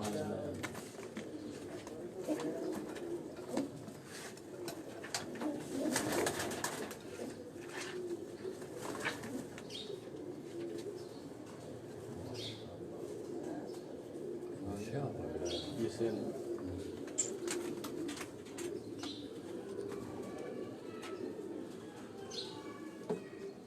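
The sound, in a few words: pigeons cooing at a breeder's farm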